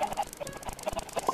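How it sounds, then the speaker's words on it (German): Chickens in the video game Minecraft cluck in short, quiet, repeated bursts over a soft background. "Die Hühner gehen echt auch absolut gar nicht auf die Nerven."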